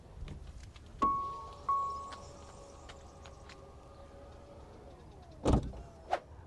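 Tailgate of a 2027 Volvo EX60 electric SUV closing: a powered hum rises near the start and runs steadily, then a firm latch thunk and a short follow-up click toward the end, close by with no talk.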